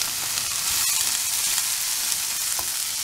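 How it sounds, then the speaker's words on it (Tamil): Tomatoes sautéing in a pan for vegetable masala give a steady, close hiss of frying that holds even throughout, with a few faint stirring clicks and no talk. "தக்காளி பழம் லேசாக வதங்கட்டும்."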